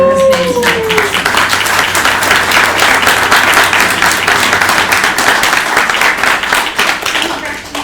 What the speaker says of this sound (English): please join me in giving a round of applause to everyone who has made tonight possible